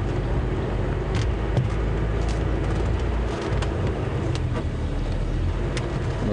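A Land Rover rolls over rough ground on a morning safari drive, its tyres and engine making a steady close rumble with continuous road noise and faint rattles.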